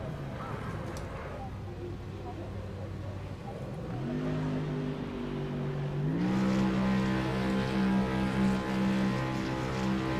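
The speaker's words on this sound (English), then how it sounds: "Revving the engine, I'm sure that's going to be healthy for it." GT3 race car in a racing video game idling in the pits at Le Mans, then revving with its engine pitch climbing in steps and holding high, steady and fairly close.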